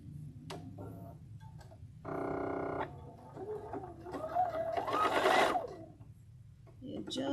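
Sewing machine chain piecing with a straight stitch, short bursts of fast ticking stitches between pauses and handling noises, with a voice speaking at points.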